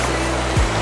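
A river on the trail to Tibag Waterfalls rushes steadily in a dense, close, broadband flow, with a brief low thump partway through and no talk.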